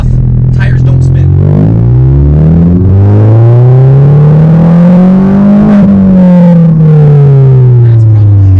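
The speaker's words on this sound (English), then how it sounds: "this is in first gear, foot to the floor, traction control off, tires don't spin" A MINI at full throttle in first gear with the traction control off, its engine note climbing steadily in pitch, then dropping at the shift and climbing again, loud, close and harsh.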